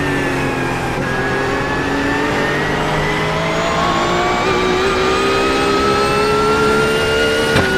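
A race car engine in the iRacing sim, a GTP prototype on an IMSA circuit, droning loudly and steadily with its pitch slowly climbing as it approaches, with no other sounds.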